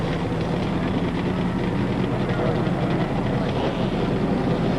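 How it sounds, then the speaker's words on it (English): Forty-three NASCAR Winston Cup and Winston West stock cars start their engines at the one-mile Phoenix oval in 1993, a thick, continuous roar that stays loud and steady throughout. "Gentlemen, start your engine."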